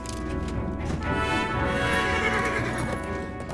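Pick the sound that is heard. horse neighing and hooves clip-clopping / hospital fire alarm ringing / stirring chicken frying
horse neighing and hooves clip-clopping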